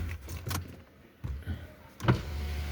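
A Chevrolet Onix 1.4 car door being shut, with a few soft clicks and a brief whirr, then a firm low thump near the end, close by in a quiet setting.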